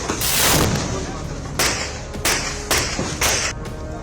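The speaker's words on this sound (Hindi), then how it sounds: "पर अब बाकायदा आंसू गैस के गोले छोड़े जा रहे हैं।" Tear gas shells fired during unrest in Manipur, heard as a series of sharp, loud bangs spaced a second or so apart over a noisy outdoor background, each with a short ringing tail.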